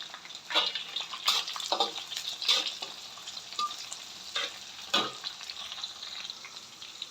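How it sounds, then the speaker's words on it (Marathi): Chopped green chilli frying with onion in a pan for khichdi made with anganwadi rice, a steady close sizzle broken by several louder bursts of stirring and crackle, with no talking. "मिरची पण छानपैकी अशी परतलेली आहे"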